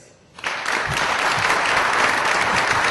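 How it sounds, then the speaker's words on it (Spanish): An audience in a parliamentary conference hall breaks into applause after a doctor's lecture, the clapping rising suddenly from quiet into a dense, sustained roar that carries evenly to the end. "con este aplauso agradecemos la ponencia del doctor Colzani"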